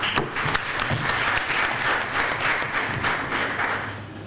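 An audience at a nutrition project launch event in Benin applauds, a dense, moderately loud clapping with a slight rhythmic pulse that continues throughout the short stretch.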